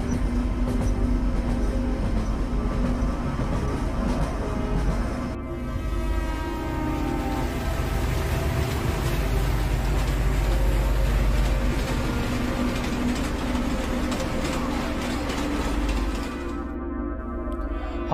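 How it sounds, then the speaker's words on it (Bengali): A cartoon train runs along with a steady rumble and rattling wheels while a sustained horn-like tone sounds over it, loud throughout. "হঠাৎ ট্রেনের হর্নের শব্দে ঘুম ভেঙে গেল"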